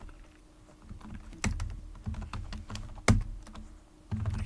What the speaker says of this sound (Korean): 엔터키를 딱 누르면 3, 2, 1을 보여준 다음에 이렇게 따라서 입력을 하는 겁니다